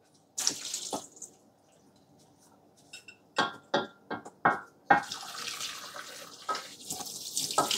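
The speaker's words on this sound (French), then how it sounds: "je vais d'abord les égoutter, les rincer vite fait" Drained lentils rinsed under a running kitchen tap, a close water stream with splashy, intermittent bursts as the colander is shaken, then steadier flow.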